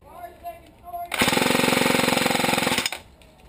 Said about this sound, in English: Now I'm going to be laying down some pretty heavy suppressing fire at distance